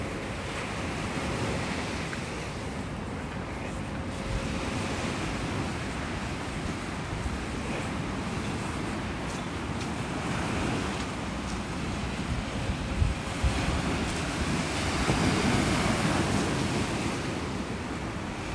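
Surf breaking steadily on a cold morning beach in North Naples, Florida, with wind buffeting the microphone; a continuous, broad wash with gentle swells in loudness and no voices.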